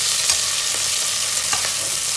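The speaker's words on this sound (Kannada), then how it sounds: "ನಾನಿಲ್ಲಿ 2 ಆನಿಯನ್ನ ಉದ್ದುಕ್ಕೆ ಹೆಚ್ಚಿಟ್ಕೊಂಡಿದ್ದೀನಿ, ಅದನ್ನು ಕೂಡ ಆ್ಯಡ್ ಮಾಡಿಕೊಂಡು ಇದು ಸ್ವಲ್ಪ ಕೆಂಪಗಾಗೋ ತನಕ ಫ್ರೈ ಮಾಡ್ಕೊಂಡಿದ್ದೀನಿ" Sliced onions fry in a pan until reddish, giving a steady, loud sizzle with occasional crackles and faint stirring scrapes, close up and without talk.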